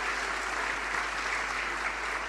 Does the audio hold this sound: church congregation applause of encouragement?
yes